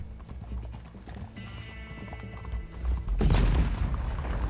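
Racehorse hooves galloping in Red Dead Online, a rapid rhythmic clip-clop that builds into a loud, heavy thundering of several horses near the end, close and without talk.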